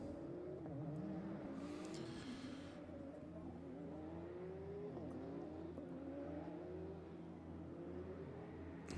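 Porsche Carrera Cup race cars in the iRacing simulation at TT Circuit Assen drone steadily, engine pitch rising and falling as they rev, with a steady mechanical hum underneath and a faint brief screech.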